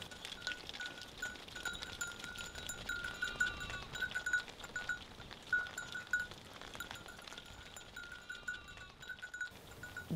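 Ewes on a sheep and horse farm in the Val de Loire bleat now and then at a distance, with faint metallic clinks like a bell in the open-air background and no voices.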